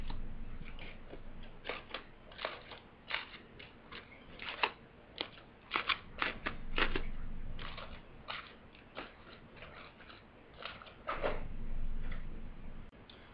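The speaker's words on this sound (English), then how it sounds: "Okay, so I poke the holes into the foil." A knife tip pokes holes in aluminium foil in quick, uneven bursts of crisp ticks and crinkly pops, close and fairly quiet, with pauses between clusters.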